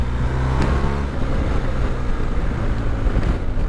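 A BMW R 1250 GS motorcycle engine, a 2022 TE model, runs steadily and loudly throughout, with a low throbbing rumble mixed with wind noise and no speech.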